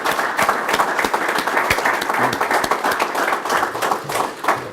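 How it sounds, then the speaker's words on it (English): Audience applause for a special guest at a football coach's weekly press conference, a steady, close round of clapping from a crowd with no talk over it. "So please join me in a round of applause for our special guest here today."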